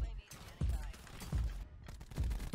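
Sharp bursts of Rampart 17 rifle fire in Black Ops 4, several spaced shots ringing out close and loud over a busy game mix, with some voice chatter in the background.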